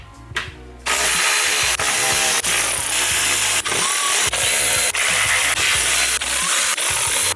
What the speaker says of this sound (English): It took like literally 4 seconds to take those screws out.